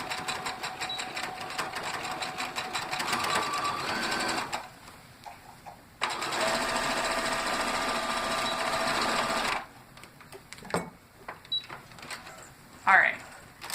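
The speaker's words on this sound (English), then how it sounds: "And then sew right along there." A sewing machine stitching binding onto a quilt runs in two steady whirring stretches broken by a brief pause, then stops, followed by quieter handling clicks.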